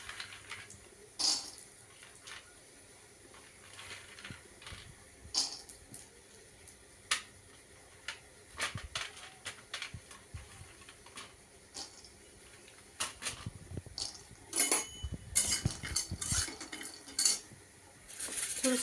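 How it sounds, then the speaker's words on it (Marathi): Peanuts roasting in a little oil in a pan are stirred with a utensil, giving intermittent clinks and scrapes of metal against the pan, close and fairly quiet, with no talking. "थोडेसे शेंगदाणे असं थोडं भाजीपर्यंत ना त्याला हलवून घ्यायचे."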